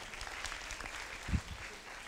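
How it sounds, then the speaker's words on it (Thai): A seated audience at a coaching seminar applauds for people who wash their dishes right away, a soft, steady patter of many hands that lasts about two seconds, with one louder clap near the middle. "ปรบมือให้คนล้างจานทันทีหน่อยนะครับ"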